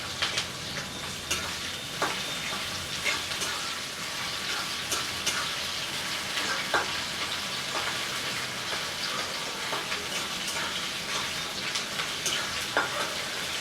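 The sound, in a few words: onions frying in a pan with garlic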